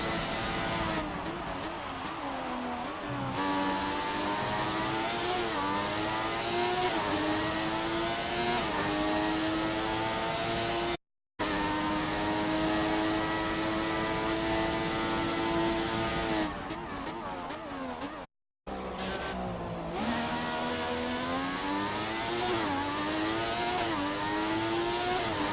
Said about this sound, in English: the Ferrari's got a V12 in the back